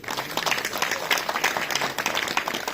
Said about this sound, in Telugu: ఆయన కోసం చప్పట్లు కొట్టండి ప్లీజ్